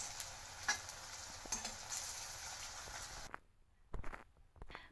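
Balls of raw banana kofta paste sizzle and crackle in hot oil with a bright, steady fry for about three seconds, then the sizzle drops away to quiet with a few soft clinks and scrapes.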